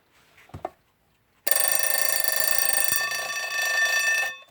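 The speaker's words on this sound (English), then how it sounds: "the top one sounds like a fire bell in the distance" After a faint click, a Westclox Big Ben mechanical alarm clock bell rings in one continuous, bright metallic trill for about three seconds, then stops.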